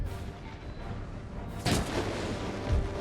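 Cannon artillery booms through a steady battlefield din in the video game Total War: Empire, with one heavy shot standing out midway and another low thud near the end, no talking.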